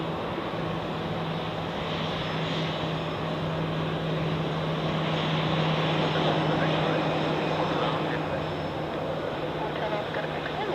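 Engines of a Swiss Airbus A320 airliner at Zurich Airport drone steadily and loudly as a broad continuous roar with a faint hum, and a voice talks over it.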